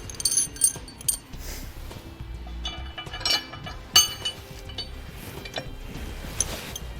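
Metal hardware clinks and rattles as 5-inch carriage bolts are pushed down through a shim beside a truck's leaf spring pack while installing Firestone Ride-Rite air helper springs, giving scattered close taps and jingles over a low background.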